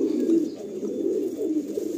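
Pigeons cooing, including a Tenali-breed male, a low continuous throaty rolling coo heard close and fairly loud, with no talking.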